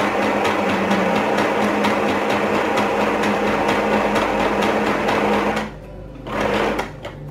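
Portable Sew Simple sewing machine running a zigzag stitch while adding a fabric lining, a loud, steady rapid mechanical whir with clattering needle strokes that stops briefly near the end, then runs again for a short burst.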